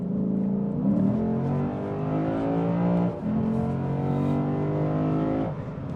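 A 2024 Lexus IS500 sedan cruising on an interstate, its engine humming loud and steady with small shifts in pitch and a brief dip midway, heard from inside the cabin.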